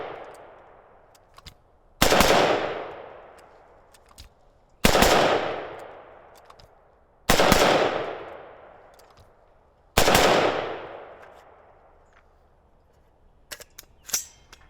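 A PA-15 rifle with a 14.5-inch barrel and mid-length gas system fires four loud, sharp shots several seconds apart, each followed by a long booming echo that fades slowly outdoors.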